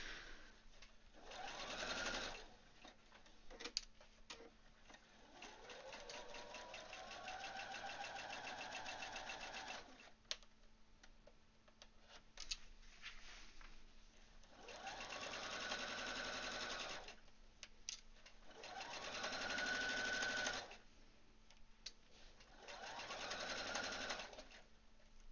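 A domestic sewing machine stitches a garment seam during an alteration, running in several bursts of rapid mechanical chatter with short pauses and a longer steady run, close by and fairly quiet.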